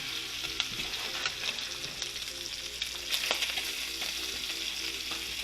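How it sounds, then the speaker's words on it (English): Bacon slices fry in a pan on the stovetop, a dense continuous sizzle and crackle with occasional pops, close and fairly loud, no voices. "what I'm going to do is go over here and check on my bacon."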